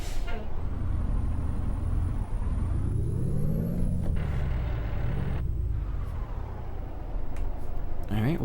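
Car driving in first gear on a 100 km/h highway merge, steady engine drone and road rumble with rising and falling engine pitch and passing traffic.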